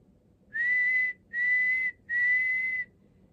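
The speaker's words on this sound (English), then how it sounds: "My brother taught me to whistle." Three steady, sustained whistled notes, each about half a second long, with short pauses between them, clear and alone over a quiet background.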